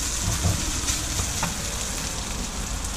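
Tofu frying in a pan on a camping stove while on the road, giving a steady, even sizzle with light crackles throughout, close and unbroken, with no talking.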